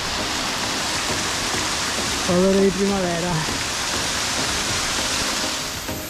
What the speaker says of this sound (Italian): Che cascate.